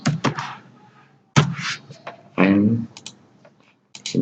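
Computer keyboard being typed on while searching in a settings file during an XAMPP install, heard as short bursts of clicky keystrokes separated by pauses, close and fairly loud, with no talking.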